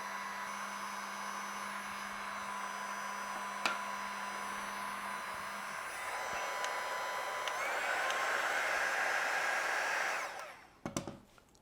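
A heat gun blows steadily while bending an acrylic sheet, a constant airy whoosh with a tonal whine that shifts partway through, rises slightly, then cuts off with a few handling clicks.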